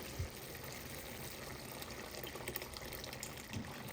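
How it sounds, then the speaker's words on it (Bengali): Hot water gushes and pours into a pot of cooking lentil dal, a continuous faint liquid rush with a couple of small knocks, no voices. "আমি এখানে আরও পানি অ্যাড করব, কারণ ডাল তো ঘন হয়ে যাবে।"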